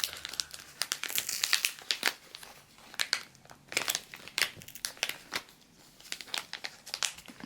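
A paper envelope from a sticker shop is opened by hand, with close, irregular crinkling and tearing rustles continuing throughout, fairly quiet, without talk.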